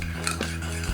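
A spoon clinks and scrapes in a small dish while blending almond oil with a quarter spoon of aloe vera gel, a few light taps over a low steady hum.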